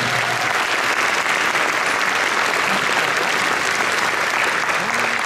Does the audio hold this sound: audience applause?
yes